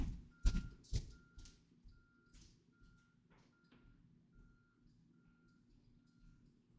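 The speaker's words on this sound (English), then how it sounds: "Big pickup truck with the backup beepers." Steady, faint backup beeps repeat at an even rhythm from a big pickup truck reversing nearby outdoors, following a couple of sharp thuds, with low rumbling traffic noise underneath.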